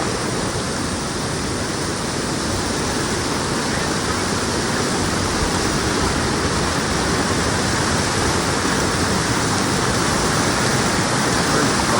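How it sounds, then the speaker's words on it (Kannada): Water rushes at Hidlumane Falls in a dense, unbroken roar that stays even and loud throughout, with no clear voices over it. "ಆ್ಯಕ್ಚುಲಿ ನೀರು ಹರಿತಾ ಇದೆ"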